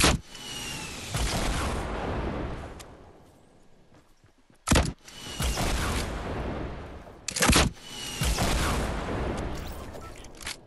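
Rocket launcher blasts in Fortnite, three loud booming bursts each trailing into a long rumbling explosion decay, spaced a few seconds apart with sharp impacts between.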